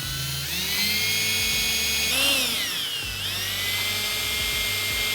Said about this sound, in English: David, he's drilling holes in the trunk and didn't test fit the wing yet